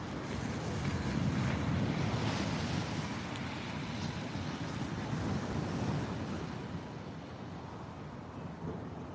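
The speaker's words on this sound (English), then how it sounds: "Those waves are beautiful. Finally got waves." Ocean waves breaking on a beach, a continuous wash of surf blended with gusty wind noise on the microphone, steady and fairly loud throughout, with no talk.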